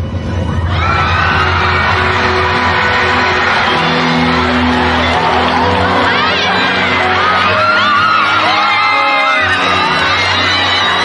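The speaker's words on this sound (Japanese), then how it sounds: "湧き上がる歓声を浴びて" A concert crowd cheers as the stage show opens, with loud, sustained roaring, whoops and high shouts from a large audience and some overlapping voices rising and falling.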